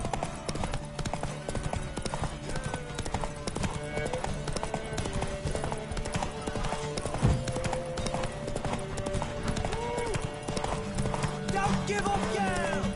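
Rapid clip-clop of a horse galloping in the video game Witcher 3, steady hoofbeats running throughout alongside game music and ambient sound, with a voice speaking over it.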